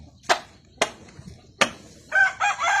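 A rooster crowing among chickens on a farm, with three sharp, loud calls spaced evenly, followed by a longer, busier burst of clucking and crowing at close range.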